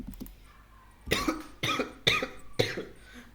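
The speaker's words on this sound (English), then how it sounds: "Why am I just coughing for no reason?" One person coughs four times in a row, close and fairly loud, each cough sharp and short with brief pauses between, following a few faint clicks.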